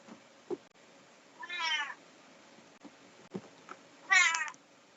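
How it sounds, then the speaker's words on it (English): A tailless domestic cat meows twice indoors, each a drawn-out, fairly clear call about two seconds apart, with faint soft knocks and room noise between them and no talking. "I'm having an argument with my cat that's too friendly."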